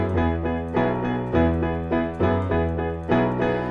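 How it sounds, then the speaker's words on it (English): A piano plays the bass line from the intro of a song, a steady pattern of deep, ringing notes struck about twice per second, close and clear with no voices. "I'm gonna do the bass line that we hear on the recording."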